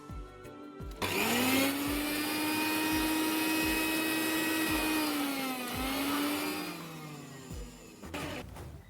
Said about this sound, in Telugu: మెత్తగా మిక్సీలో పేస్ట్లా చేసుకుంటే